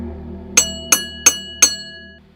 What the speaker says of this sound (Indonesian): Lonceng dengan gagang kayu kecil sebelah pegangannya